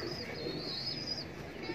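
Pet pigeons, golden and teddy breeds, cooing softly alongside light chirps, low and somewhat distant, over a faint ambient background.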